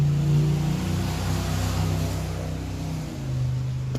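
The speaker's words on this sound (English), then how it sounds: "That truck, that sounded like a race car, but it was a FedEx guy" A FedEx delivery truck drives past with a loud, race-car-like engine roar that holds steady, then dips and swells again near the end, with no talk over it.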